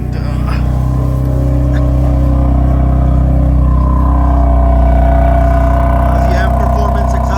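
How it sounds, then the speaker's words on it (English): BMW M4 with a factory full-carbon M Performance exhaust, idling and revving in a garage in Canadian winter, a loud steady low engine drone that swells gently with light throttle, with people talking over it. "the M Performance exhaust, factory full carbon."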